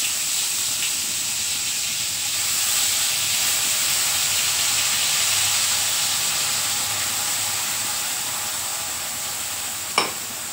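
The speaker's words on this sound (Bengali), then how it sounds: "পেঁয়াজটা পেস্ট করে নিয়েছি, দিয়ে দেবো।" Onion paste hits a hot pan on a home stove and sizzles with a loud, steady frying hiss that carries on unbroken, close up, ending with a single brief clink.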